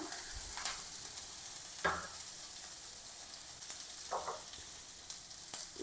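Masala and ginger frying in a pan while biryani is being cooked, a steady low sizzle under a few brief scraping stirs, close and fairly quiet with no talk.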